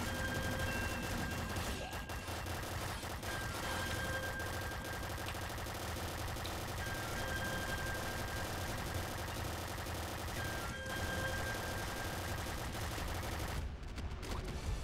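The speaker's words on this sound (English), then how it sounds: "I love this, shooting down these corridors where there's like, the bullets have nowhere else to go." Rapid, dense gunfire from shooting in the video game Nuclear Throne (Ultra Mod), sustained and loud throughout with steady game music underneath and a brief drop near the end.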